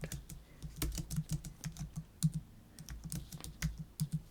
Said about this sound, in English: So let's just type something in there.